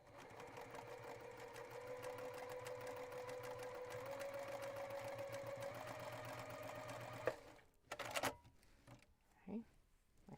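A sewing machine stitches quilt blocks together for a knot-block mystery quilt top in one steady close run, then stops, followed by a few handling clicks and a brief voice.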